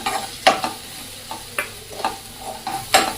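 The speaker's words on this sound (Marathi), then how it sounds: "हे तेलात थोडस परतून घेऊयात" Garam masala, Kolhapuri masala and red chilli powder sizzle in hot oil while a spoon stirs them in a pan, giving several sharp scraping strokes over a soft, continuous fry, close and clear with no talk.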